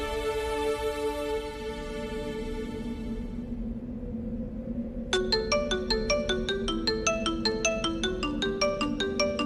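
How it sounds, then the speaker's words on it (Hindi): A phone rings with a repeating electronic ringtone melody: rapid, evenly spaced bright tones in a steady rhythm, entering after a sustained musical chord fades, moderately loud and close. "ये मुझे इस वक्त क्यों फोन कर रहा है?"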